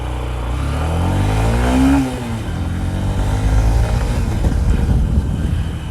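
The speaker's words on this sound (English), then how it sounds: "So this is how it accelerates. This bike accelerates." A Honda SP125 BS6 motorcycle with an air-cooled engine accelerates through city streets, its loud engine note rising steadily in pitch before easing back into a rough, continuous drone for the rest of the run.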